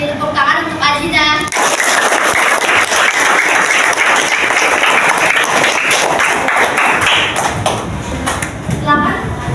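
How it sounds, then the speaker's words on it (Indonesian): Schoolchildren at an elementary school break into sustained applause in a classroom, a dense patter of many small hands clapping close by for several seconds, with a brief voice at the start and a fading, ragged tail. "Mari kita beri tepuk tangan untuk Aziza."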